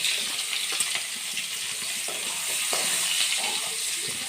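Cumin seeds, asafoetida and onion frying in hot oil for a village-style brinjal oro, giving a bright, continuous hiss with light clinks and stirring scrapes.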